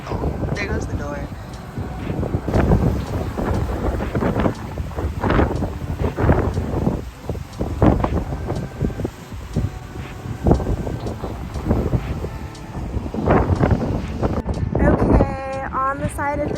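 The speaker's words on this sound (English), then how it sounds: "It's gonna be so windy when I open this." Strong wind roars around a parked van beside a freeway as the door opens, loud gusty buffeting and rumble throughout, with a person talking over it.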